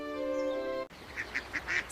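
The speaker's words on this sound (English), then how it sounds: "See the ducks swimming together?" Ducks swimming together outdoors give several short quacks in quick succession, moderately close, after a brief steady tonal hum that cuts off abruptly.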